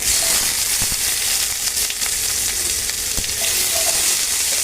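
Onion going into hot oil with cumin seeds, ginger and garlic sizzles loudly and continuously up close, with scattered crackles and pops throughout.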